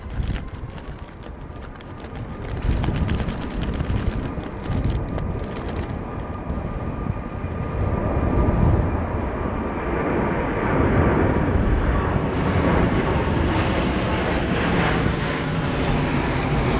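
Jet airliner engines swell into a loud, sustained roar as a go-around is flown at London Heathrow Airport in stormy weather, building over several seconds amid gusting wind noise.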